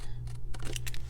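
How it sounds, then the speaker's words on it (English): Scissors snip through paper along a fold while making a pressed flower envelope, giving a few close, crisp cuts in quick succession over a low steady background hum. "I'm just gonna try my best to cut in a straight line."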